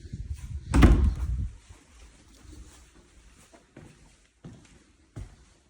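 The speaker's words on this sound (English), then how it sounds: "You can see how difficult this closet door is to open." A stuck closet door being forced open, with a loud creaking, cracking burst of wood strain close by, followed by a few faint knocks and small creaks in a quiet room.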